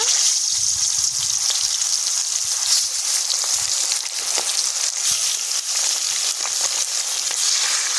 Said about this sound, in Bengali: বেরেস্তা ভাজা তেলে মাংসগুলো ভেজে নেব।